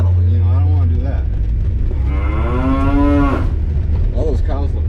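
Cattle in a cold barn moo loudly and up close, with one long drawn-out call and a shorter one, over the low hum of a car engine idling.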